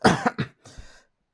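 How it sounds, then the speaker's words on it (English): Two quick, harsh coughs close to the microphone, followed by a softer, raspy throat sound that trails off into silence. "Excuse me, I got a cough."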